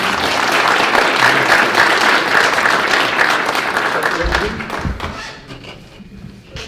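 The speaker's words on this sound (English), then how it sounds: "So biggest hand of applause, everybody." Applause for testifying students at an Alaskan town hall, loud sustained crowd clapping that tapers off, then a few thumps and quieter sounds.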